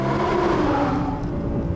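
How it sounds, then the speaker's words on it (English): An Audi R8 V10 Plus engine revs with a sustained, strained mechanical drone, loud and steady and slightly falling in pitch, heard alone without voices. "the V10 engine sounds incredible"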